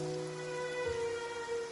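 Steady rain patters in Genshin Impact after someone calls up to the sky, a soft continuous hiss that is fairly faint throughout, with a low hum beneath it and no voices.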